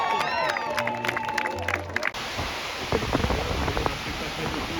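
A crowd at a va'a outrigger canoe race finish line applauds and cheers as teams cross, a broad noisy wash of clapping and voices that swells after a short announcement over music and a brief break.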